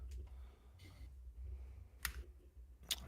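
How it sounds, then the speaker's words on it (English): Clicking of a computer keyboard in a few quick, light bursts, fairly faint and spaced out over a low steady background hum. "The keyboard."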